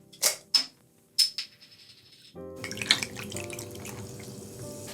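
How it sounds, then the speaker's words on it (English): Tonic water is poured over ice into a cocktail glass, following a few sharp clinks of ice. The steady, close pour begins with bubbly fizz and liquid splashing. "And top up with tonic water."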